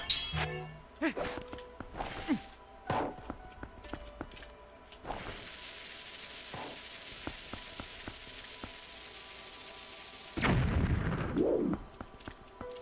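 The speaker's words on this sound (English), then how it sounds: "I wonder if I can blow these things up with a bomb" A bomb explodes in The Legend of Zelda: Twilight Princess on GameCube, a loud broadband burst near the end following scattered game clicks and effects, with a steady hiss underneath.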